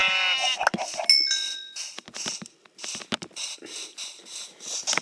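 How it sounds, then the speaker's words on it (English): Sheep in the Minecraft video game bleat in a quick run of short, bright calls along with clicking game sounds, close and clear with no talking. "Okay, there's two sheep there."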